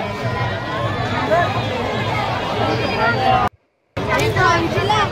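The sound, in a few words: crowd bustle at the Ambernath temple Mahashivratri fair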